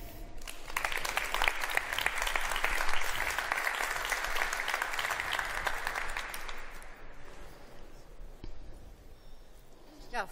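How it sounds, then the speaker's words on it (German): An audience applauds at a discussion event as a presenter is called to the stage, a dense, loud burst of clapping lasting several seconds before thinning into scattered claps and a faint voice. "Bitte schön, Frau Letius, das ist Ihr Applaus."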